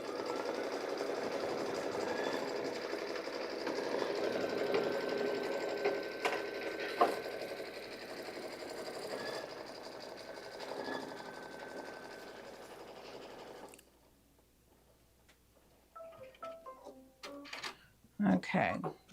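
Embroidery machine stitching a small strawberry design, a steady fast mechanical whir with clicks for about fourteen seconds, then stopping as a voice speaks close by.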